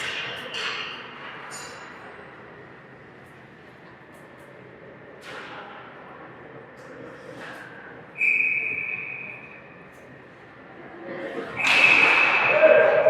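At a junior ice hockey game, sharp referee whistle blasts ring out, one around the middle and a louder one near the end, amid arena ambience, skate and stick noise, and commentary talk.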